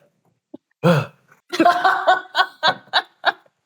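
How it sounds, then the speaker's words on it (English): A loud, close burp erupts in a single deep gurgling belch, followed by a string of short, rhythmic laughing bursts. "Today you're burping in my face."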